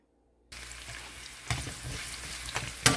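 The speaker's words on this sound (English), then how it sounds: "I'm going to saute first this ginger and also the garlic together." Ginger and garlic sizzle in a hot pan after a short silence, a steady frying crackle with a few louder bursts of stirring and spatula scrapes, close and alone with no talk.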